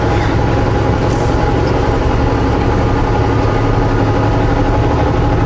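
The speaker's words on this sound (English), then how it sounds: "Flooring in a big rig is such a time delay." A big rig truck's diesel engine drones loud and constant at full throttle from inside the cab, a deep low rumble with no letup.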